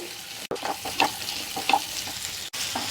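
Large onion pieces sauté in hot oil in a pan, giving a soft steady sizzle. Intermittent stirring scrapes and clinks run through it, with two brief gaps.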